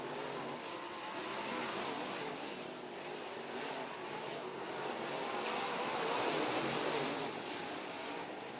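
Modified race cars roar around a track during an East Bay WinterNationals race, a steady loud engine drone that swells slightly as the field passes, with no clear breaks.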